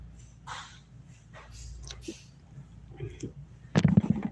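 A dog barks and yips in a home, a few scattered barks early on and then a louder, closer burst near the end, with people talking at times.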